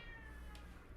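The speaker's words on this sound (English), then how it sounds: "I don't know if you can hear my cat crying outside the door" A single short, faint cat meow comes from outside a door, heard once over a quiet room.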